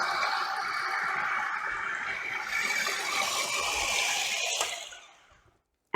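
A plastic food processor lid, holding green pea guacamole ingredients, is twisted into place, giving a scraping, ratcheting grind that runs for several seconds and then stops abruptly.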